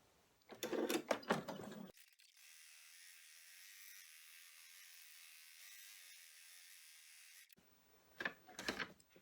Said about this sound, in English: off to the machine I go to do the placement stitch